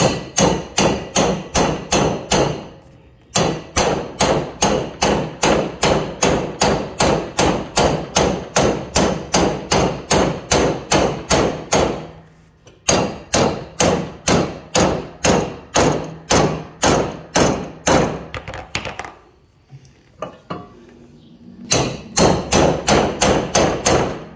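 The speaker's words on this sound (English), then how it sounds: "Let me hit it with that sledgehammer." Sledgehammer blows pounding a stuck blade on a Bad Boy Maverick mower, a long run of loud, rapid, evenly spaced metallic whacks with two short pauses and a quieter stretch before the hammering resumes.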